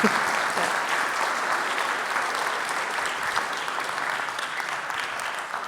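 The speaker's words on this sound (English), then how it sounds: "Can we get a big round of applause for Kat?" Sustained audience applause fills a hall at an Illinois FIRST Tech Challenge robotics kickoff event after a referee Q&A session, steady and dense throughout with no speech over it.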